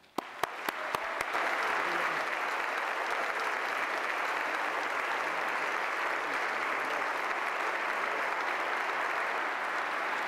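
An audience at the Westminster Town Hall Forum breaks into sustained applause welcoming saxophonist Branford Marsalis, a few early claps swelling quickly into a steady, dense wash of clapping that carries on evenly to the end.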